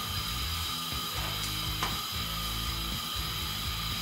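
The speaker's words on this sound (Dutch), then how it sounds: "En die gaat heel even in de magnetron zo," Microwave oven timer being set for about a minute to warm peanut sauce, a ratcheting mechanical clicking under a steady hum, close and continuous.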